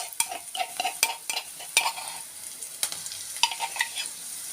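Garlic frying with lentils in a pot for lentil soup, stirred steadily: continuous sizzle broken by sharp scraping clicks of a spoon against the pot, close and clear, with no voices.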